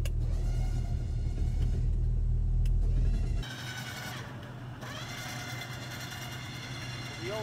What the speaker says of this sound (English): start winding in the winch